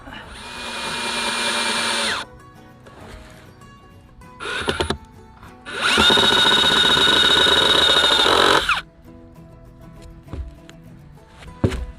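Cordless power drill driving screws into the corners of a wooden raised garden bed frame, two sustained whirring bursts with a short spin between them, close and loud, with quiet handling noises in the gaps.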